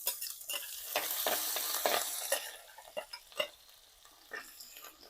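Ginger and garlic fry in hot oil for a fish head curry, a close, bright sizzle that swells and then eases, mixed with stirring scrapes and a few clinks of a spoon against the pan, without speech.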